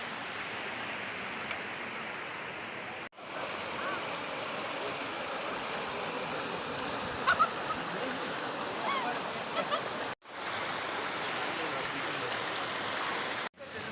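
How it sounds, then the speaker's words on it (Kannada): Steady broadband rush of a waterfall and flowing stream at Sulsulo waterfalls, Goa, on a monsoon trek, continuous and fairly loud throughout with a few brief dropouts. "ಇದು ಇವತ್ತಿನ ಕೊನೆ ವಾಟರ್ ಫಾಲು. ಸುಲ್ಸುಲೋ ವಾಟರ್ ಫಾಲಿನ 4ನೇ ಜಲಪಾತ."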